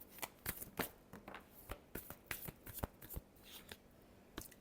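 Tarot cards being shuffled by hand in a quiet room, making a run of quick, crisp riffling and slapping bursts. The bursts are irregular and fairly soft, close to the listener, with no talking.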